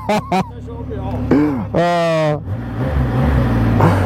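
A Triumph Rocket 3R motorcycle engine revs, rising and falling in pitch through a couple of throttle blips, heard up close amid background crowd chatter and outdoor noise.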